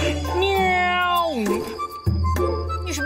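A human voice imitates a cat in heat, making a long, drawn-out wavering meow that slides downward, followed by a second shorter yowl, close and loud.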